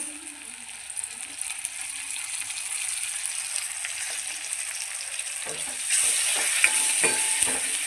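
Onion sautés in hot oil with turmeric and tomato, a continuous close sizzle with occasional stirring scrapes that grows louder and busier partway through. A voice talks quietly over it at times.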